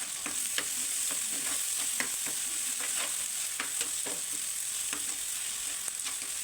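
Onion and turmeric fry in a pan for village-style besan pithla, giving a steady close sizzle broken by repeated sharp scrapes and taps of a spatula stirring at an uneven rhythm.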